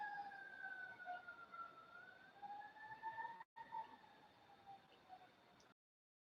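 Faint wailing sirens rising and falling far off, two overlapping tones that drift steadily with a brief dropout before cutting off.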